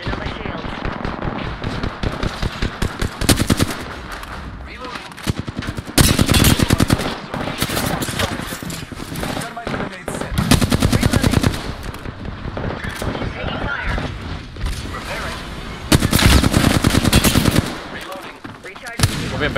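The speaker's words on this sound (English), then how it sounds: "Opening fire on the enemy." Rapid automatic gunfire bursts in a first-person squad shooter game, loud and repeated in several long volleys with short gaps, with a voice speaking between them.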